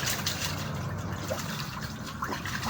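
Water poured and splashing for bathing outdoors, a continuous close trickling and sloshing with small bursts, steady throughout.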